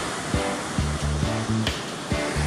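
Ocean waves break on the Sea of Japan on a calm, windless early morning as the swell breaks close to shore. The surf is a steady, close wash of noise with faint tonal sounds drifting over it.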